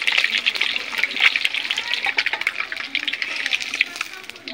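Eggs frying in oil in a pan while cooking egg curry, a continuous bright sizzle and crackle with rapid popping, fairly close and steady throughout, with some talking mixed in.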